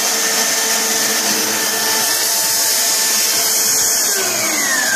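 A portable metal-cutting bandsaw, switched on with a foot pedal, runs at a loud, steady whine and hum from close by for several seconds, with no talking.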